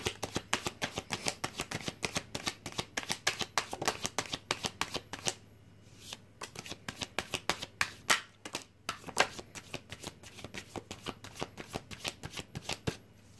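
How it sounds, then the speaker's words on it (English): A deck of tarot cards is shuffled again and again up close, each riffle a rapid flutter of snapping card edges in quick rhythmic bursts, with one short pause midway and no speech. "let's start drawing some cards, Aquarius"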